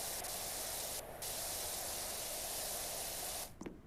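A pressure washer in PowerWash Simulator blasts a helicopter with a steady, loud hissing spray that runs nearly unbroken, dipping briefly once before cutting off near the end.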